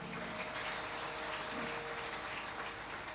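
An audience claps steadily at a religious discourse gathering, a dense, even wash of applause lasting the whole moment with no voices over it.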